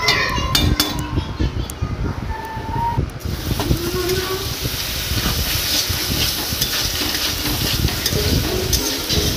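Vegetables with salt, turmeric and chilli powder being stirred in a hot pan give a steady, loud sizzle and hiss throughout, with faint scraping and clinks near the start.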